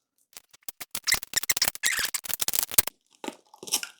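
Tape being peeled off the panels of a crested gecko enclosure: a quick run of sharp ripping and crackling bursts, close and fairly loud, with a brief pause and a final short tear.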